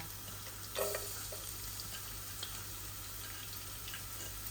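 Garlic cloves sizzling in a modest amount of hot oil with bay leaves in a pan, a steady soft crackle and hiss with a brief louder spatter as the garlic goes in, no talking.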